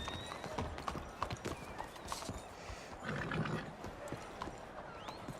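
Horse hooves clip-clop at a steady riding pace in the Red Dead Redemption 2 video game, joined by a few whinnies and some faint game ambience, moderately loud with no clear talk.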